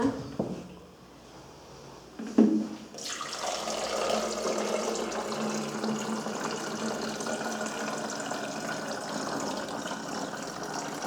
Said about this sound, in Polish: czyli musimy nalać wodę.